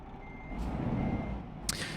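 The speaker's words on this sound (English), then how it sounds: "I've generally gotten sick of hearing the sound of my truck's own, like, reverse signal and everything." Reversing beeps from a truck in Euro Truck Simulator 2, a steady repeating electronic tone over low engine rumble, with a short hiss of air brakes near the end.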